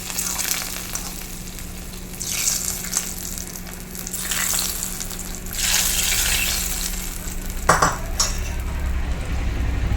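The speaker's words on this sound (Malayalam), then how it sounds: "നമ്മുടെ താളിപ്പ് ഒഴിച്ചു കൊടുക്കാം." A hot tempering of fenugreek and curry leaves is poured into a Kerala-style fish curry with green mango. A sizzle bursts up in several waves, with pot clinks and a brief sharp splash near the end.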